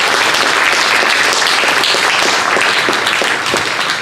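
Audience at a lecture series event applauding, a dense sustained round of clapping from a full room, loud and even for the whole stretch with no voices over it.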